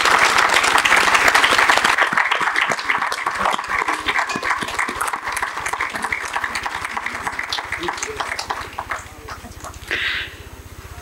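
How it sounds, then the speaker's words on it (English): Audience applause at a Teacher's Day ceremony at an institute, loud sustained clapping from a large crowd that gradually thins, with a brief voice near the end. "kindly give a huge round of applause to the SDM Modinagar"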